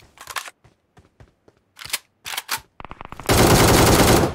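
Gunfire in PUBG Mobile: scattered single shots and short sharp bursts at irregular intervals, building into a loud rapid automatic stream at the end, close and punchy.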